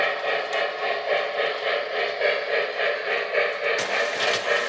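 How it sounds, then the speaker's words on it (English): A model train runs over layout track near a switch tower, giving a steady rhythmic clatter and hum that pulses evenly, close and moderately loud, with a brief sharper click near the end. "When that train goes over the isolated track right in around where that switch tower is."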